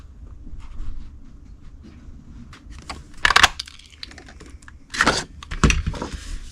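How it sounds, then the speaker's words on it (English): Three sharp, separate clunks from a craft punch cutting Tuxedo Black cardstock for a Halloween treat box, close by and quiet, with faint handling noise between them. "I'm going to cut that with the Pick of the Patch punch"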